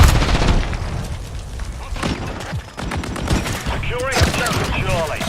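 A grenade goes off amid rapid gunfire in a Call of Duty-style multiplayer shooter, with dense, punchy bursts and booms layered together. Voices call out over the combat.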